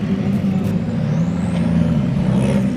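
GB3 and GB4 single-seater race cars pulling out of the pit lane at Silverstone produce a steady, loud engine drone with a low rumble, while a faint rising whine passes through the upper range.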